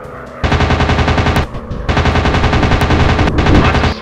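Aircraft machine guns in a WWII dogfight video game fire two long, loud, rapid bursts separated by a short pause, harsh and close with no talking.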